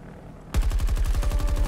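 After a quiet moment, a loud, close automatic weapon in Battlefield 2042 opens up with a steady, fast stream of evenly spaced shots that continues to the end.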